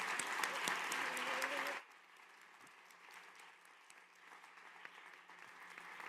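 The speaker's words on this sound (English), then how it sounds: "shall we clap?" An audience claps together at a seminar on mobility and cooperation projects to mark an anniversary. The applause is loud and dense for about two seconds, then breaks off, leaving a quiet, echoing room.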